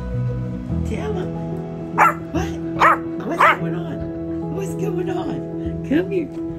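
A small dog yips and barks in a few short, high bursts, close by, over a steady background hum.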